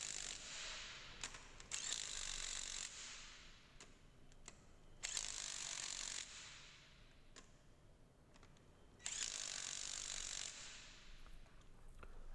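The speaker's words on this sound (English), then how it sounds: "I use a torque bar here to fasten the wheel." Torque bar ratcheting while a Peugeot 207 wheel is fastened, three bursts of rapid clicking with scattered single clicks between them, fairly close and alone.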